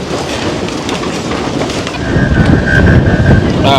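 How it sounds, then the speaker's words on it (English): Strong wind buffets the microphone in a steady low roar that swells louder partway through, with a faint tonal whine in the background. "it's windy."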